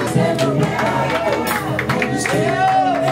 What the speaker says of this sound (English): Give him a standing ovation.